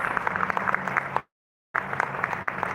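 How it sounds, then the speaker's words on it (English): Guests at a South Asian travel awards gala give the winners a round of applause, a busy crackle of clapping cut by a brief total dropout before it resumes at the same level. "shall we all give a loud round of applause for all of the winners so far this evening at Santa Awards"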